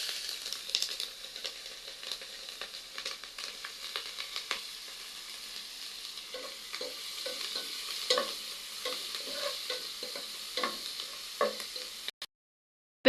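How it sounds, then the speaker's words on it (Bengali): Chopped onions and green chilies fry in a pan after fish, a continuous close sizzle with frequent light scraping and stirring clicks throughout, no talk, ending in a brief cut to silence. "পেঁয়াজগুলো হালকা লাল করে ভেজে নেওয়া শেষ।"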